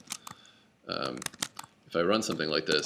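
Brisk clicking from a computer keyboard, typing into a shell, comes through in short bursts while someone talks over it.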